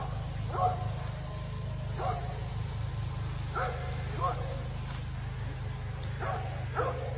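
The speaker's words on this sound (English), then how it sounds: "The dogs are always barking here" Dogs on a rural property bark in scattered bursts of one or two yips at a time, somewhat distant, over a constant low rumbling hum.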